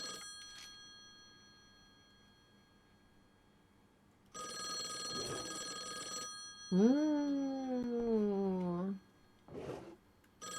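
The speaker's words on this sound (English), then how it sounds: "Yeah, I'm ignoring the phone." Telephone ringing in a video game, a loud electronic ring bursting in twice among quieter stretches, with a rising warbling tone between the rings.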